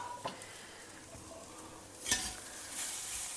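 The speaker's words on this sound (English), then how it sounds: "Now add the fried Bittergourd to it." Fried bitter gourd is tipped into onion masala in a pan. A soft sizzle runs throughout, with a clack at the start and a louder scraping, hissing burst partway through as the pieces land and get stirred. No one speaks.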